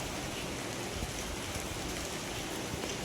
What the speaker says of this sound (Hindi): अभी भी बारिश हो रही है।